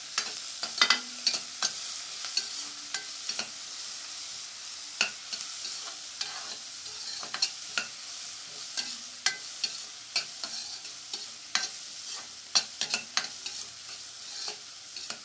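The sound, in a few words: onions being sautéed and stirred in a pan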